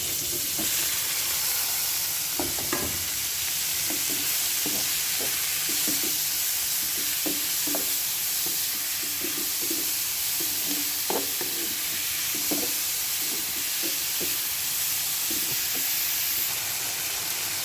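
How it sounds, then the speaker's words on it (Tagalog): Dried salted fish sautéing in a pan with garlic, a constant close sizzle and hiss with intermittent light scraping taps of stirring throughout. "Igigisa ko naman ngayon ang dried fish."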